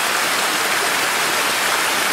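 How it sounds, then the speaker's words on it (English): A small creek flows steadily near the Nibutani Ainu community in Hokkaido, Japan, giving an even, broad rushing wash of water that holds constant throughout with no voices over it. "So from this small creek,"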